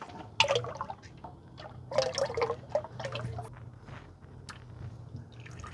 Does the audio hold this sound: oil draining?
yes